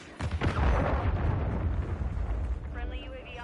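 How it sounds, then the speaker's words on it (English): A deep rumbling blast from a cruise missile explosion in a video game, starting suddenly and rolling on as a long low roar, with a voice speaking faintly near the end. "Friendly cruise missile deployed."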